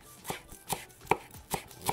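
A knife chops rolled-up parsley on a board in five evenly spaced, crisp thuds, close and distinct.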